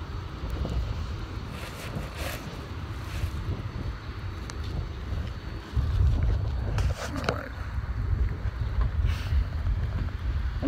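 Strong wind blowing outdoors, a heavy low rumbling buffet that rises and gusts louder midway, steady and close, as though buffeting the microphone.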